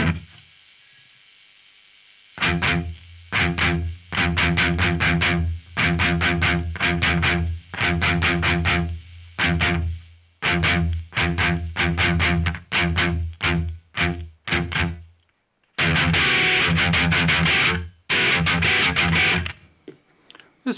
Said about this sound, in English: So this is our noise for the distortion boost combination.